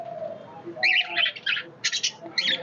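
A roughly 40-day-old budgerigar chick gives a series of short raspy chirps in quick bursts, close and fairly loud over a quiet room background.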